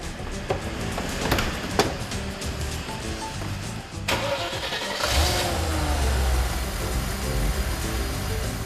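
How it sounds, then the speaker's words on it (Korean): A gasoline car converted to LPG is cranked and starts, its mid-pitched engine catching and settling into a steady idle after a few seconds of uneven turning over. "시동 걸어봐."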